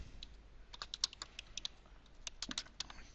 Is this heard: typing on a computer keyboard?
yes